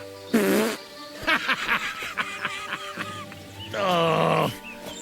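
Two loud, buzzing cartoonish farts in the video game Kingdom Come: Deliverance 2, one near the start and a longer one near the end, with rattling clatter and a short snickering noise between them.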